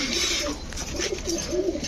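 Several pigeons coo softly and repeatedly nearby, their low rolling calls overlapping against a faint background hum.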